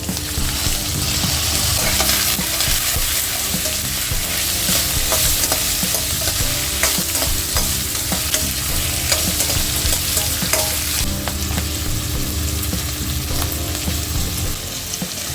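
Capsicum and onions stir-fry in a hot pan for Gobi Manchurian, with a steady, dense sizzle and frequent scraping and clatter of a spatula throughout, close and loud, with no talking.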